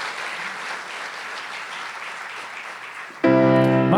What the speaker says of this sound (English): Let's give another round of applause for our honorees.